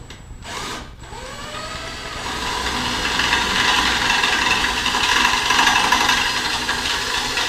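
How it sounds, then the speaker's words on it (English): A power drill bores out rivets on a panel of a 2018 Polaris Axys 800 snowmobile, a steady close whine grinding on for several seconds after a couple of brief starts, with no talking. "just gives you a little more room to drill those rivets out"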